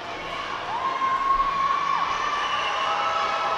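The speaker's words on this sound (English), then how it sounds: "And the crowd knows it too. Cheering them on." Crowd at a roller derby bout cheering and whooping from the stands, a steady wash of voices with a few high shouts rising above it at moderate distance.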